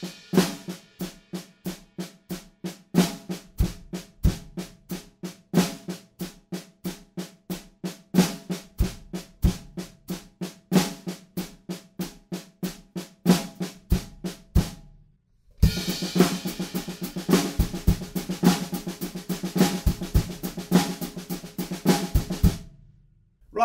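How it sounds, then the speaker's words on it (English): Acoustic drum kit playing the bridge of a song, steady busy cymbal and hi-hat strokes with snare flams landing on beats two and four, loud and close, a brief gap before a denser, washier section, no talking. "we're playing on the snare drum with flams on beat 2 and beat 4"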